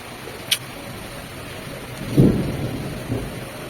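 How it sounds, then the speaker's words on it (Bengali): A light drizzle falls during a hot spell, giving a steady soft hiss of rain throughout, with a low rumble like distant thunder rolling in partway through; no one speaks. "ঝিরঝির করে বৃষ্টি পড়ছে"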